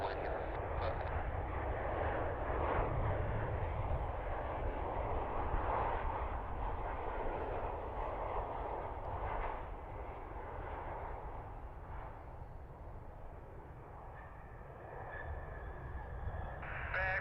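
A Southwest airliner jet takes off at Cleveland Hopkins airport, giving a steady, broad engine roar that holds loud for the full length, easing slightly toward the end.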